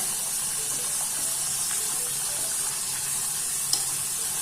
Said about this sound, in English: So you have to fry it till it becomes brown, not very black.